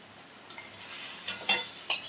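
Mustard paste sizzles softly in a pan as hilsa fish pieces go in one by one, with a few brief clinks and scrapes of utensil and pan over the quiet frying hiss.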